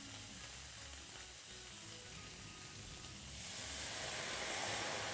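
A hot pan sizzles and hisses steadily as a veal-stock sauce of water and stock base goes in, the frying swelling louder and brighter in the second half.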